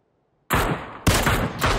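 Gunfire in PUBG: two or three loud, close bursts of rapid shots after a short silence, each burst ringing out alone.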